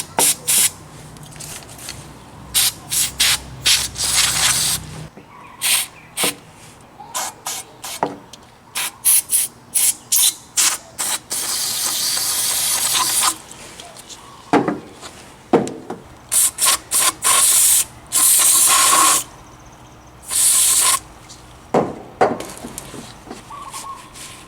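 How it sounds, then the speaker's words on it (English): Bursts of carb cleaner sprayed onto and through a kei truck carburetor, short hissing blasts repeated in an uneven rhythm with a few longer sustained sprays, close and fairly loud with no talking. "I sprayed out the carb itself."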